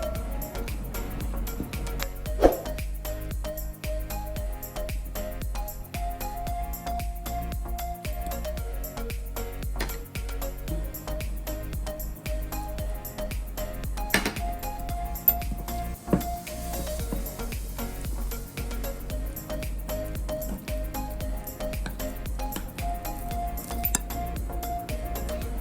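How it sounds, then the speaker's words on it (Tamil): Light clinks and soft wet stirring as banana flower fry batter is mixed with water in a bowl, a spoon tapping the sides in repeated small knocks at close range. "இப்போ கொஞ்சம் கொஞ்சமா வாட்டர் ஊற்றி பேட்டர் ரெடி பண்ணிடலாம்."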